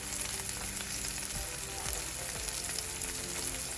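A dry red pepper sizzling as it hits hot oil in a pan, a steady close crackle and hiss with faint stirring scrapes and no voices.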